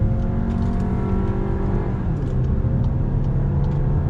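A 2019 VW Tiguan R-Line picks up speed on a highway, with a steady engine drone and road noise heard from inside the cabin and rising slightly in pitch as it accelerates.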